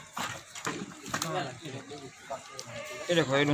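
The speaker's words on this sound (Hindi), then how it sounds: "जवान के कंधे बराबर माशाल्लाह खसी बकरा बिल्कुल दो दांत ग्रंटी और जिमारी के साथ" Bleats from a castrated two-toothed goat at a livestock market before Eid, repeated several times and fairly close, mixed with someone talking loudly throughout.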